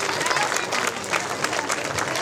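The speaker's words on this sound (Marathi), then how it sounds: "एकदा जोरदार टाळ्या वाजवून आपण स्वागत करायचं आहे त्याचं" Audience at a literary gathering applauding to welcome the organiser, dense steady clapping from a crowd throughout, with a voice speaking faintly under it.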